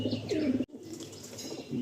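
Pure Andhra pigeons of the Mangalgiri line coo nearby, a steady overlapping run of low throaty calls with a brief break, fairly loud and close.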